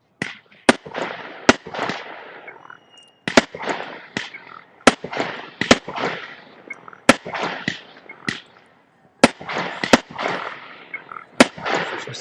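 Fireworks and firecrackers go off outdoors at night, a long series of sharp cracks and pops at irregular intervals, some clustered in quick bursts, moderately distant, with occasional quiet voices between.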